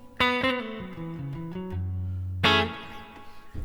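Electric guitar through a Line 6 Helix Princeton amp preset with a Princeton cab, 47 condenser mic and 63 spring reverb: a bright picked phrase of descending notes, a held low note, then a sharp strummed chord ringing out.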